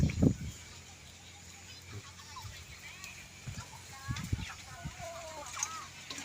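Outdoor farm scene with faint chicken clucking and bird calls in the background, soft scattered thumps, and occasional low voices.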